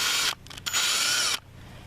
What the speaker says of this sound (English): I slowly drill down into the hole that was previously created